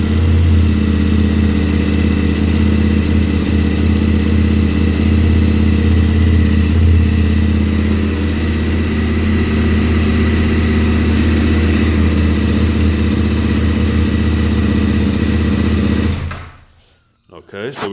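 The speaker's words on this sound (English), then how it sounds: "So let's fire it up." A motorcycle engine fitted with a RapidBike module runs close and loud at a steady, even idle for about sixteen seconds, then cuts off abruptly into near silence.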